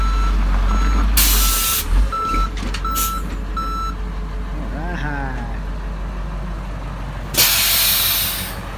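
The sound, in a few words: truck reversing with backup beeps to unload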